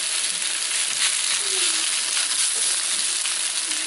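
Beef browns in a hot pan with a continuous, even sizzle and faint crackles. The frying stays close and steady with no talking.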